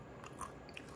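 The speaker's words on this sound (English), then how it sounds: "Oh yeah, it's like crunchy, but it's like a hull almost of a peppercorn" A dried Szechuan peppercorn gets bitten and chewed up close, with a few soft, quiet crunches spaced across a brief moment.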